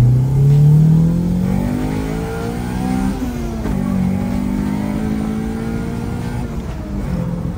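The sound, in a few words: 1999 Honda Civic SiR VTEC revving through chambered muffler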